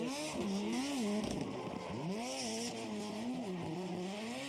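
A drift car at Ebisu Circuit, Fukushima, screams past at high revs, its engine pitch rising and falling through gear changes and throttle stabs while tires hiss and squeal in a continuous loud wash.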